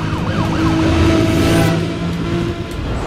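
A police siren wails in Need for Speed Undercover, its rising and falling tone sweeping over loud racing car engines during a pursuit, then fading into the engine roar.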